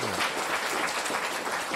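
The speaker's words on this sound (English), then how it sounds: "So a round of applause." Audience applauding at a bridge showcase and awards event, a brief, dense patter of clapping heard at moderate distance.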